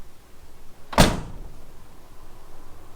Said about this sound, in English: So what we're going to do is a simple door shut test.